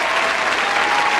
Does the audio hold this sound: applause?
yes